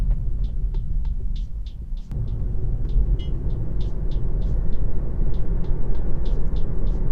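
Low, steady road rumble inside the cabin of a Tesla Model 3 driving at about 30 km/h, with a constant tire drone and a faint rhythmic ticking over it, a sharp jolt from a bump partway through, no talking.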